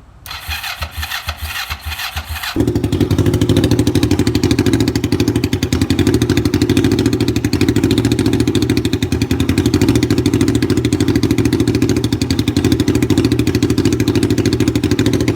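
A Kawasaki Vulcan 500 Bobber motorcycle engine cranks briefly, catches and starts, then settles into a loud, steady idle close by.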